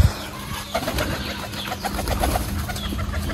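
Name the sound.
pigeons cooing in a loft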